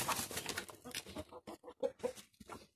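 Backyard chickens and a rooster clucking and calling in a farmyard at a shed as they are herded in, several short overlapping bird calls, moderately close, with a person speaking around them.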